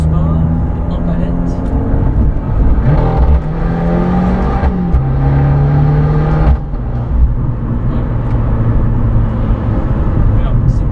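Abarth 595 Competizione in sport mode, its small engine revving loudly from inside the car, pitch climbing and dropping through several pulls with a brief lift-off midway, while someone talks over the drone.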